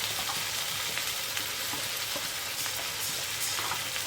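Spiced gravy with coriander, cumin and amchur stirred in hot oil, a dense continuous sizzle with faint scraping strokes throughout.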